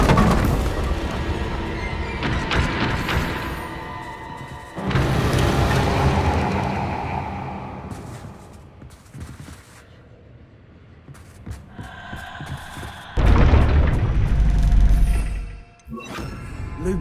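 Spell blasts from a wizarding action game, the Confringo fire spell among them, land as several loud booming impacts with crashing bursts, separated by quieter gaps.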